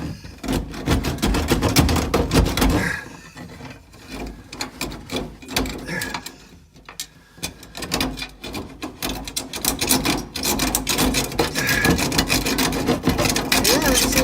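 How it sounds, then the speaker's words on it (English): A tapered keyhole saw rasps through a blockage while a garage urinal is being installed. The close scraping strokes are irregular and continue with brief pauses for about fourteen seconds. "I have this, I think they call it a keyhole saw, tapered saw"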